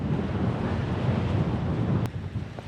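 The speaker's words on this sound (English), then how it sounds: "Maybe you cannot hear me because it's windy here." Constant wind buffets the microphone on a mountain trail on the Isle of Skye with a low, rumbling roar that barely lets up.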